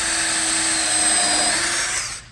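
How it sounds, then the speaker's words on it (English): A drill countersinks pressure-treated lumber for an arcade cabinet base, giving a loud, steady high-pitched whine that runs for about two seconds and then cuts off. "Now we're doing the countersink"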